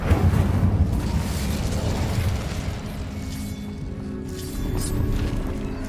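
Incendio fire spell cast in the Hogwarts Legacy video game, a rushing, roaring burst of flame with booming low rumble that swells, eases, then surges again, loud and continuous with no voice over it.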